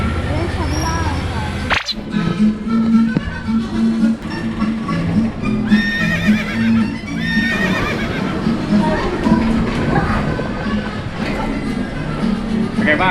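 A merry-go-round at a Thai amusement park playing horse neighing and clip-clop effects, a loud whinny followed by steady hoofbeat sounds and ride music, with people talking throughout.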